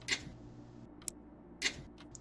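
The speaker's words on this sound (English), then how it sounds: "The only thing making noise is the ticking of my clock on my wall and the humming of the air conditioner." Wall clock in a DDLC mod video game, ticking slowly and evenly with a few crisp, quiet ticks over a soft low hum.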